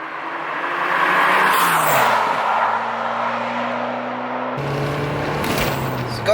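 A Ford Escort RS Cosworth accelerates hard, its engine note rising steadily through the revs, then a gear change and another pull, heard loud and continuous from close by.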